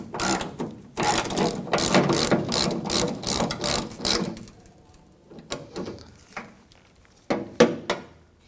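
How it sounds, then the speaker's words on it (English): Ratchet with a T45 bit tightening a tailgate bolt on a 1997-2003 Ford F-150, a long run of loud rapid clicking followed by slower, separate ratchet strokes, close and alone. "Grab your T45 and tighten it down."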